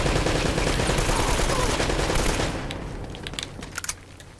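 Enemy gunfire in Uncharted: Drake's Fortune, a heavy, sustained barrage that fills the first half, then thins to scattered, more distant pops and cracks as the din fades.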